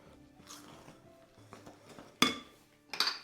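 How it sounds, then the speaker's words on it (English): Eggs cracked into a small bowl while making a chocolate Guinness cake, two sharp shell taps standing out against quiet kitchen clatter. "we crack our eggs in here first and then into our mix"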